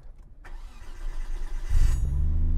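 A Nissan S15 Silvia's RB26 six-cylinder engine cranks and catches at about two seconds, then settles into a loud, steady idle close by after a quieter stretch of faint background noise.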